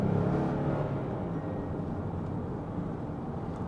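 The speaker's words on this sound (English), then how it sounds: "I like the engine sound a lot." A 2021 Kia Carnival minivan engine hums low and steady from inside the cabin while accelerating, a smooth broad drone that eases slightly as it runs, no voices.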